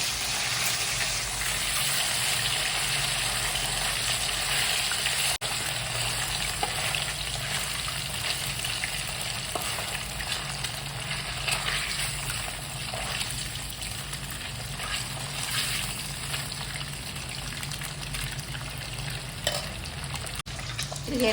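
Food fries lightly in hot oil with a dense, steady sizzle and crackle that fills the whole stretch, close and fairly loud, with faint stirring and no speech.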